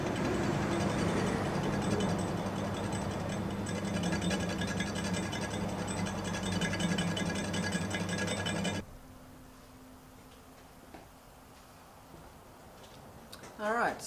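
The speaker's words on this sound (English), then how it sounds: "I'm taking a really light finishing cut" Small lathe taking a very light finishing cut on a cast part for a homemade Gingery dividing head, a steady loud mechanical whir with ticking gear noise that cuts off abruptly partway through, leaving quiet room noise.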